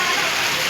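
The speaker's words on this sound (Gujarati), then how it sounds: "હા અમારું ધાબાનું પાણી પડે છે." Rainwater pours off a rooftop terrace in a loud, dense, continuous rush during heavy rain, heard only briefly.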